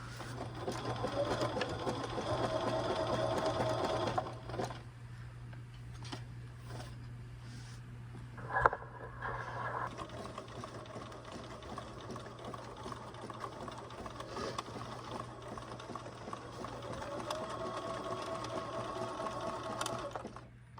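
A sewing machine stitches patchwork appliqué onto upcycled jeans, running in steady mechanical bursts that pause briefly mid-way with a sharp click, then resume and continue close and alone.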